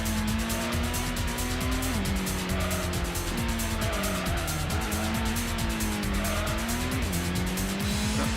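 Gran Turismo race car in simulation mode roaring at steady high revs, engine pitch rising and dropping through gear changes with intermittent tire squeal through corners, loud and continuous throughout.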